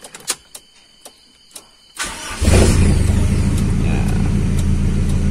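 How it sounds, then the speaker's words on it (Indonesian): An electric starter motor on a car, just fitted with new carbon brushes, first gives a few sharp clicks, then cranks in a loud continuous whirring rumble for the remaining seconds, with no talk. "Nah, sekarang starternya nyalanya normal ya."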